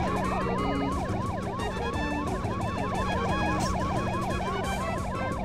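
A police car siren wails in the Test Drive 6 racing video game, a continuous rapid yelp cycling up and down, steady and fairly loud with engine drone underneath and no talking.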